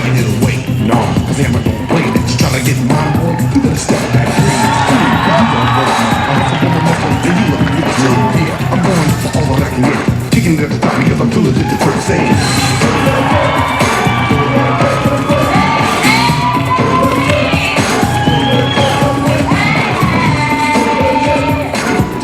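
A large crowd at a bodybuilding posing routine screams, whoops and cheers continuously, a loud, dense roar with shrill individual shouts rising throughout.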